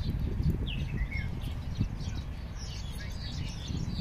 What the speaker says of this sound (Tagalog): ang daming mga ibon,